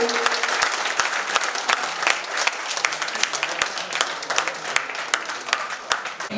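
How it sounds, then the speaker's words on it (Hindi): Loud, sustained applause from an audience at a poetry gathering of visually impaired poets, dense clapping with sharp individual claps standing out throughout. "एक बार जोरदार तालियों से, तालियां अभी भी जोरदार तालियां होनी चाहिए।"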